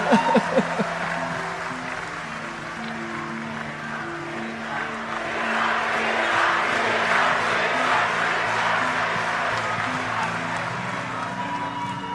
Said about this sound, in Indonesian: Boleh tepuk tangan lagi yang meriah buat Mas Gibran.